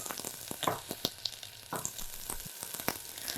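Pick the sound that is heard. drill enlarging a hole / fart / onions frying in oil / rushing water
onions frying in oil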